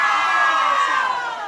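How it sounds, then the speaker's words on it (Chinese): Concert crowd at an outdoor temple-festival stage show in Minxiong screaming and cheering, a sustained loud roar of many voices with high shrieks throughout, without a break. "这边的尖叫声在哪里？"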